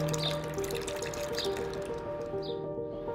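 Ingredients for Thai pla ra fermented fish sauce tip into a pot over medium heat, a steady close pouring and splashing with faint drips, continuous and moderately quiet.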